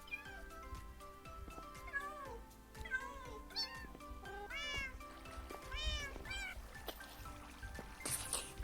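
Several cats meow repeatedly in the video game Minecraft, with overlapping, close, fairly quiet meows over a faint trickling background.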